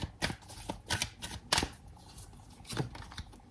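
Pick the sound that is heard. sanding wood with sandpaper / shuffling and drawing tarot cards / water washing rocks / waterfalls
shuffling and drawing tarot cards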